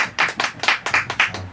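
A church congregation at Sunday worship claps in a quick, regular rhythm of about seven sharp, clear hand claps, close and distinct, with no talk.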